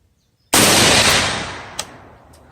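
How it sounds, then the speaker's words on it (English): A single loud, close gunshot from a firearm being test-fired for velocity, a sharp crack after silence followed by a long echoing decay, with a faint click near the end. "Okay, first shot."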